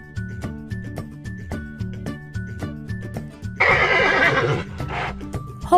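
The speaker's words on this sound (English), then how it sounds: "horse," A horse gives a loud whinnying neigh that shakes and fades, heard over a steady, rhythmic musical backing with a plucked beat.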